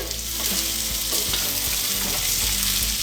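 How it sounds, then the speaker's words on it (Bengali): Chicken fries with onions in a pan while being stirred. A loud, continuous sizzle runs throughout, with scraping stirring strokes close by and no voices. "চিকেনটা ভালো করে মিশিয়ে দিচ্ছি পেঁয়াজের সঙ্গে।"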